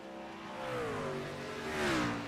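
A race car at Watkins Glen swells in with a rising, then falling engine whine, its pitch sweeping down as it passes fairly close, loud and alone.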